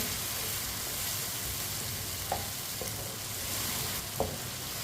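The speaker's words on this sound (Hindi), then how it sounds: "आलू डाल के 2-3 मिनट के लिए पका लेंगे, ऐसे ही चम्मच चलाते हुए।" Potato pieces for aloo pulao fry in a pan while a spoon stirs them, giving a steady, close sizzle with a few sharp scrapes and taps against the metal.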